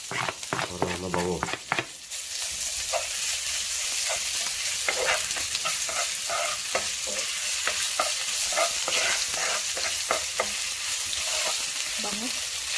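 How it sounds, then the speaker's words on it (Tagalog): Ginger sautéing in a pan for chicken adobo in tomato, a steady loud sizzle with scraping stir strokes throughout, after a brief quieter moment of clatter at the start. "Bango talaga pag binuna na yung luya."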